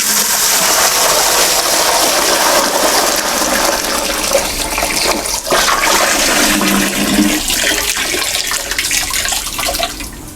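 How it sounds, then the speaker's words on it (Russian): Eleven litres of raw spirit poured at once into the pot of a still, a loud, continuous gushing splash of liquid that lasts about ten seconds and tapers off near the end. "переливаем все 11 литров сразу в куб."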